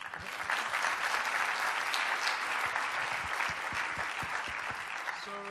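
An audience at a UNIDO conference session applauds the Director General and Sophia, a full, sustained round of clapping from many hands that holds steady and begins tapering at the end.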